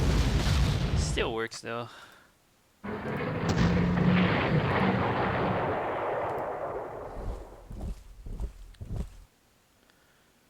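Artillery bombardment in the Panzer Corps World War II strategy game: a booming volley and a long rumbling explosion roll out, followed by a few fainter thuds, with someone speaking briefly.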